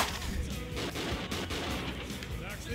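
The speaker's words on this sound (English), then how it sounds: "Sounds like a gunshot." Gunshots in the Crazy Taxi video game crack out as several sharp bursts inside a dense, loud game mix of music and noise, with voices talking over it.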